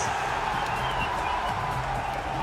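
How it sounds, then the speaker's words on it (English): A crowd at a Rocket League esports match roars and cheers, a dense and sustained wall of noise with no clear breaks. "the crowd erupting behind him"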